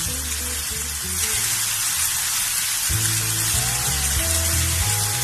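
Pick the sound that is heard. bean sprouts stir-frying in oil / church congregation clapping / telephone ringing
bean sprouts stir-frying in oil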